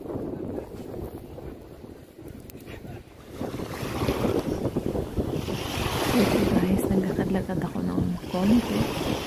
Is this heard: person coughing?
no